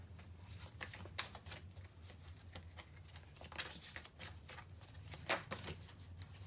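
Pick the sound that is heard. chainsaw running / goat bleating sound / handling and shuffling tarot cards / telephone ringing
handling and shuffling tarot cards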